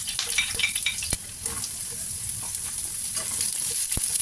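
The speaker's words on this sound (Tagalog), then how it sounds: "So, bali nagisa muna ako ng bawang at sibuyas." Garlic and onion sautéing in a pan, a steady soft sizzle with a few sharp utensil taps and occasional stirring scrapes, fairly quiet and close.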